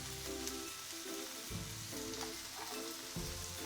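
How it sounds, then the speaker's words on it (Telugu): Tomatoes frying in a pan, stirred now and then, a quiet steady sizzle with a few soft scraping strokes at intervals and no talk. "దీన్ని బాగా మిక్స్ చేసుకొని సాఫ్ట్గా అయ్యేంత వరకు వేయించుకోండి"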